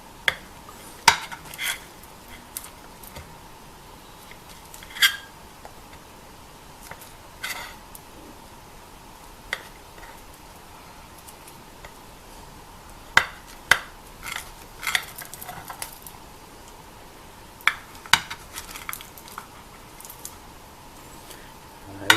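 Utensils scrape and tap against a plate while sticky pulut gula melaka is sliced, producing scattered sharp clinks and soft scraping over a quiet background, with no talking.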